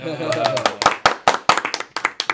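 A church congregation at a Tuesday prayer meeting claps in a loose, uneven rhythm of sharp, close hand claps, following a brief moment of speech at the start.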